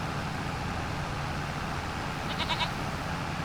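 Goats in Farming Simulator give one short bleat partway through, faint against a steady low rumble of farm vehicle noise, with no talking.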